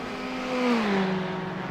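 Race cars in a sportscar racing sim, a Ford and a Ferrari 488, braking into the horseshoe turn at VIR: a steady engine drone with a falling pitch as the cars slow, fairly close and continuous.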